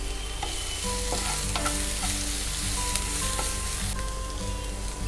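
Finely chopped large onions frying in a pan for street-style aloo chaat, a dense, steady sizzle with occasional light stirring clinks, close and loud throughout, with no voices.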